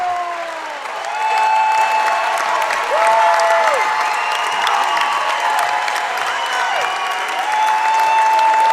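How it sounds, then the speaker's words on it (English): Crowd at a Defiance versus Shawnee high school boys basketball game breaks into steady, loud applause and cheering that fills the gym and holds for several seconds. "Beckett Berkey telling the Shawnee faithful to cheer a little louder."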